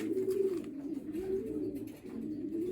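A racing pigeon being handled coos in low, throaty, rolling phrases, repeated several times at close range with soft rustling in between.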